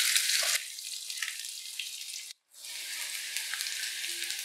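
Potatoes frying in a pan for a fish curry, a bright hissing sizzle that drops off briefly and returns steady and close, with light stirring noises and no talk.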